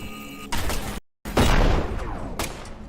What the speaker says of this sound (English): These explosive bullets don't hurt the guys on the tombstones anymore